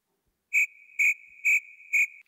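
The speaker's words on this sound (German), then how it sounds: "Grillen zirpen wie hören." Crickets chirp four times in an even, quick rhythm, each chirp sharp, loud and close, separated by a faint sustained trill against otherwise silent surroundings.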